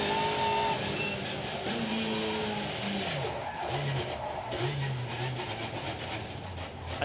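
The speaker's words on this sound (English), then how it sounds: "Tom Coronel's brakes just vanished into the ether. The brake pedal went all the way to the floor" A WTCC race car at the 2017 Marrakech street circuit skids after losing its front brakes, tires squealing in long falling tones over a loud engine and commentary, the squeal breaking into several sliding bursts.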